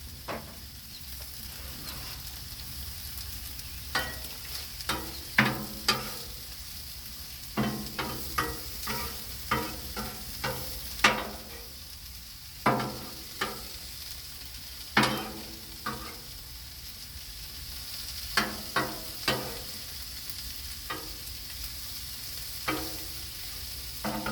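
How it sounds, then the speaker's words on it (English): Shrimp and vegetables sauté in butter on a Blackstone griddle, giving a continuous close sizzle with repeated scraping and tapping from a spatula at an irregular pace, with no voices. "we're going to go ahead and put some butter onto our shrimp. And also our vegetables with this saute up"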